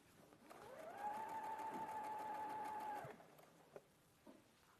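A sewing machine stitches a dart in fabric in one steady, close whirring run of about two seconds that starts and stops cleanly, followed by a couple of small clicks.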